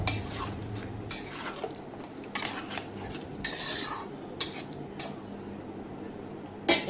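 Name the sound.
stirring chicken with yogurt in a pot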